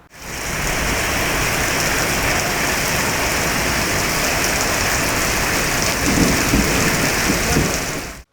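Heavy rain pours down in Gokarna as a loud, dense, unbroken roar of water drumming on surfaces, steady from start to finish with no voices.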